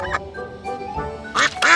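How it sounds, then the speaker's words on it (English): Duck quacking in an animated train series, a few loud, nasal quacks close by, the strongest bursts coming near the end over faint background sound. "Look, there's a duck over there."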